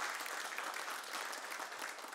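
An audience at the first China Basketball Hall of Fame induction ceremony in Tianjin claps steadily, a dense, even wash of many hands that holds for the whole stretch without a break.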